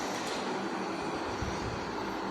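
A train in the video game Poppy Playtime Chapter 2 gives a steady, dense rumble and rolling rattle, continuous and even in loudness throughout, with no voices.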